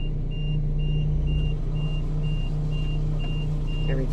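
A truck at a gate with its reversing alarm sounding: regular evenly spaced beeps repeat throughout over a loud, steady diesel engine rumble, close by.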